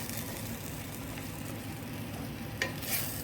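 Frozen broad beans frying and being stirred with mashed tomatoes in a pan: a quiet, continuous sizzle with soft scraping stirs throughout.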